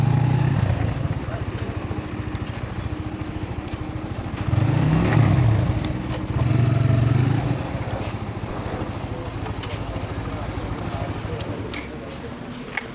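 A motorcycle idles and rumbles at low volume while being brought to a stop and parked on a mountain pass road in Buner, with a couple of brief engine surges and talk over much of it.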